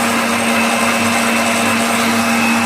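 YUI M-120 multi-function stand mixer running at speed 6, a loud, steady motor whine with a constant hum and whirring, unbroken from start to end.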